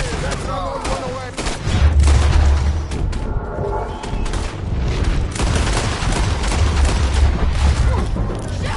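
Gunfire in the Western video game Red Dead: a dense, rolling burst of shots and booms with heavy low-end thumps, loud and sustained across the whole stretch, with a voice talking underneath.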